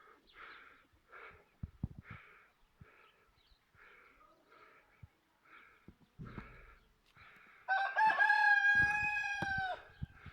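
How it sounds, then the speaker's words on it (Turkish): Soft chicken clucking and quiet calls repeat in a calm rural outdoor setting, then a rooster crows loudly and clearly near the end. "Sadece horozlar ötüyor."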